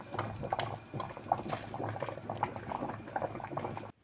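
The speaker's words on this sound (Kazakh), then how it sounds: "сақтау үшін осындай суға тағы да бір банкаларымыздың сыртынан 10-15 минут қайнатып алатын боламыз" Jars of beet salad boiling in a pot of water, a close, continuous bubbling and popping with small liquid patters, ending abruptly.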